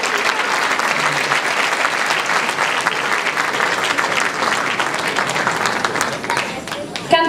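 A television studio audience applauds a singer, a dense, loud, sustained clapping from many hands that carries on for several seconds before tapering near the end, with voices mixed in.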